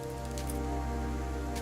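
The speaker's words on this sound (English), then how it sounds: "Even when it was raining." Rain falling in the video game Please, Touch the Artwork, a steady soft patter of drops on a surface, continuous and fairly close, with no voices.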